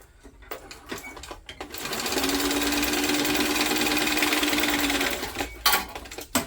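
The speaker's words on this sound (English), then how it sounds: "I did back stitch over the seams just to really hold them in place" A sewing machine runs steadily for several seconds while backstitching over the seams of a fabric tote bag, preceded and followed by short handling clicks and taps.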